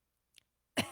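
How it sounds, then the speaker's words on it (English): A single sharp cough bursts out after a brief faint rustle, close and fairly loud, with no talking. "Or coughing."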